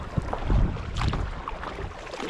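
Paddle strokes from a kayak out on a lake while fishing: irregular splashes and water swishes close by, with some wind noise on the microphone and no talking.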